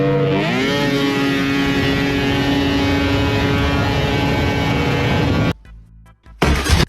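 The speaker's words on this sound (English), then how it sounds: "the engine is not revving as high as it should" Kawasaki Bayou ATV fitted with a 700 triple two-stroke snowmobile engine holds a loud, steady high-pitched buzzing rev for about five seconds, seemingly short of full RPM, then cuts off abruptly before a brief burst returns near the end.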